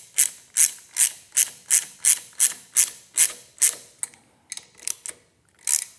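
A ratchet tool clicks in quick, regular bursts as it tightens the handlebar grips on a Harley motorcycle, with about a dozen sharp close ratcheting strokes that turn briefly irregular near the end.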